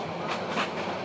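Passenger train on the Dhaka to Cox's Bazar route heard from inside a carriage, a steady rumbling roll with soft rhythmic wheel clatter, no voices.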